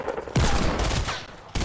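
Rapid gunfire from the video game Fortnite bursts in loud and close after a brief lull, rattling on steadily for over a second, pausing briefly, then starting up again.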